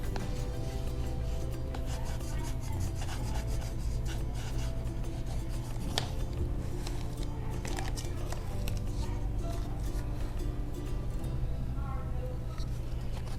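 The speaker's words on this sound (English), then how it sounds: "we do remember to burnish" Art tape is burnished onto a surface to adhere it, a faint scratchy rubbing over low background hum, continuous with a few small clicks and distant voices.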